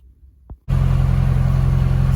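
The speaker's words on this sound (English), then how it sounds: "So now that the car is running" A Honda fitted with a Hondata s300 starts after near silence and a brief click, then holds a loud, steady idle with a deep, even rumble.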